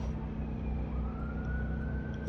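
Emergency vehicle sirens wail outdoors at a moderate distance, a steady rising tone over low traffic rumble throughout.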